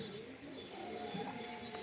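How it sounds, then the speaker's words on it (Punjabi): Pigeons coo softly in low, throaty tones, faint and brief against a quiet background. "ਕਬੂਤਰ ਉੱਡ ਰਹੇ ਨੇ ਹੁਣ"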